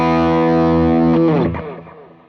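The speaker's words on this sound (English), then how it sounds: "I've chosen to do some high gain power chords" High-gain electric guitar power chords ring out with reverb, one sustained chord followed by a quick slide into another, loud and close, then decaying into a reverberant tail.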